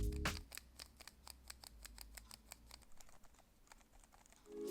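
Qiyi MS speed cube turned by hand in a quick run of sharp, clacky clicks with a slight bump between turns, close and fairly quiet, with no voices.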